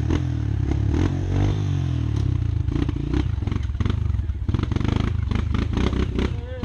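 A trail motorcycle engine revs hard and loud up a steep trail climb, its pitch surging and wavering over clattering and scraping, while voices shout nearby.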